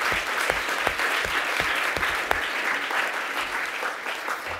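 Dense congregational applause at a Sunday evening evangelistic church service, many hands clapping together in a loud, steady wash that eases slightly toward the end.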